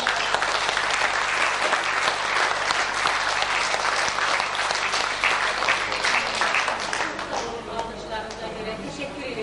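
A crowd at an Azerbaijani public gathering gives loud, sustained applause that stays dense and even for nine seconds, easing slightly near the end as a voice begins to speak.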